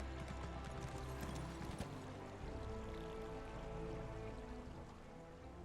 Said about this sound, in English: My horse is very good at coming up and downstairs